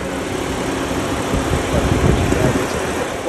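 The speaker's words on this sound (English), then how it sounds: "The fan that you hear, that's your coolant fan running." Coolant fan whirs steadily over the idling engine of a 2016 Honda Pilot, a constant broadband rush with a low hum beneath, swelling slightly toward the middle before settling back.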